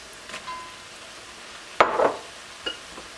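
Onions hit a hot pan with ginger for an Asian ground beef stir fry, giving one sudden, loud, close burst of sizzle that quickly fades, with a few faint clinks around it.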